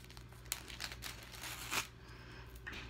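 Thin plastic bag holding a 24-inch silver monogram chain necklace crinkles in a few quick, close bursts as the necklace is pulled out, with a louder rustle near the middle, no talking.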